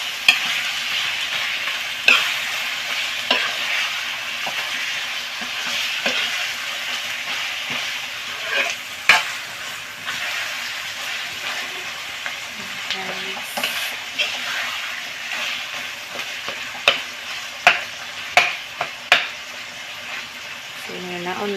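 Ground pork sizzling and frying in a pan, with scattered scraping knocks of stirring through a steady hiss, close and moderately loud; speech is faint or absent.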